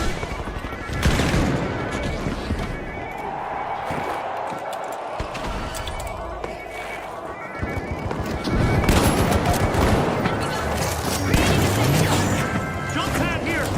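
Gunfire from a Shockwave weapon in a video game, with dense, loud bursts of shots and crashing impacts over a busy game soundscape, while someone talks throughout.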